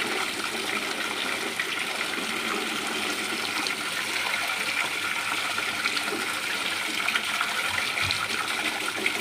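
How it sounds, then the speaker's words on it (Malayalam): Continuous rushing water pouring forcefully from a pipe under pressure into a moina culture tank, a broad steady gush with no pauses. "ഇനി നമ്മൾ ഒരു പൈപ്പിൻ്റെ ചുവട്ടിലേക്ക് നല്ല പ്രഷറിൽ വെള്ളം ഇടണം കേട്ടോ."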